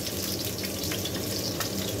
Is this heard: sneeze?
no